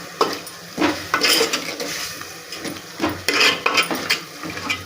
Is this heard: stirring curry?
yes